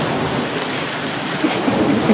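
Heavy thunderstorm rain pouring down steadily in the town of Kimovsk, a dense close hiss with faint rumbles of thunder rolling underneath, no voices.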